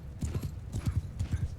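Horse hooves clip-clop on the ground in the Mount & Blade II: Bannerlord battle game, with steady paired thuds repeating in a walking rhythm, close and moderately loud, and no talk over them.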